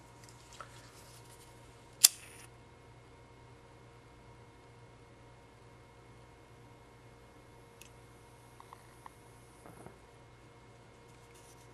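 Scissors cutting paracord while making a bracelet: one sharp, close snip stands out against a quiet background, followed later by a few faint small clicks.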